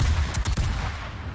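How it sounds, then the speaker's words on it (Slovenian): A cruiser firing its guns in a naval video game: a quick cluster of heavy, close gunshot bursts over a dense low rumble, trailing off into a steady roar. "Kruzer me strelja."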